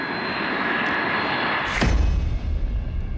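Boeing 777 jet engines roar in a steady, loud, broadband rush with a high whine, then a sudden surge of deep low rumble near the end, no voices present.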